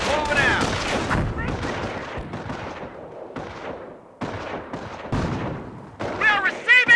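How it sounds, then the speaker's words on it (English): Gunfire and explosive booms in the Company of Heroes World War II strategy game, bursts of shots and heavy impacts layered over battle noise with voiced unit callouts. "We're receiving fire!"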